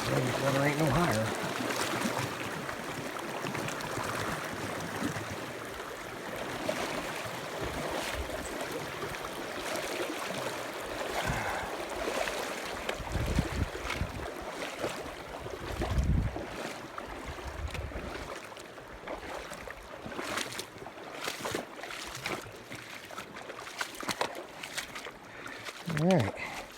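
Water rushing and splashing as someone wades across the cold Snake River in Yellowstone while backpacking, a steady close flow with footsteps and splashes and occasional spoken words over it.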